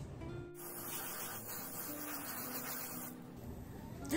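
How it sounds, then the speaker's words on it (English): A continuous hissing spray of cooking spray from an aerosol can into a pan lasts about two and a half seconds, close up, with quieter room noise before and after. "let me spray it up with some cooking spray"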